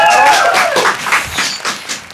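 An audience on a feminist podcast applauds to welcome guest Ita María. The clapping is fairly close and comes in uneven bursts, over a fading musical tone, and it tapers off within a couple of seconds.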